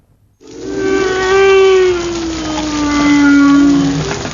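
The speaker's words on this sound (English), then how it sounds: "In fact, this particular one was the humpback whale." A humpback whale gives a long, loud tonal moan with stacked harmonics that slowly glides downward, followed by a second sustained call, heard alone over a low background hiss.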